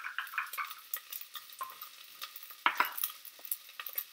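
Onions and garlic frying in melted coconut oil in a pan, with soft sizzling and repeated scraping, clinking stirring strokes, fairly close and quiet, with no voices.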